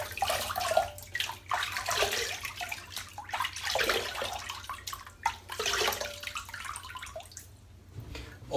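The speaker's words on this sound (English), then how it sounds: "Right, I'm going to wet the head." Cold water splashes and trickles as a head is wetted before a shave, irregular wet slaps and drips close by with running-water hiss between them.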